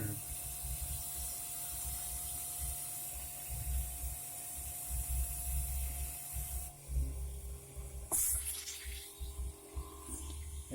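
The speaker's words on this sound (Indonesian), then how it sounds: "kita semprot terus dengan posisi kita berubah-ubah supaya semprotan air itu merata mengenai dari evap." Water sprays steadily onto a car air-conditioning evaporator behind the dashboard, a continuous hiss that shifts tone as the spray angle changes, with a brief clatter near the end.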